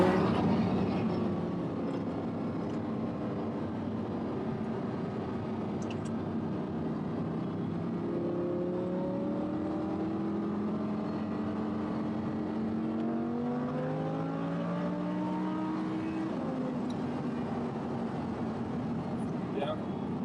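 A car accelerating on a road-driving course during a driving lesson, a steady engine drone rising in pitch through the gears, heard from inside the car while people talk over it.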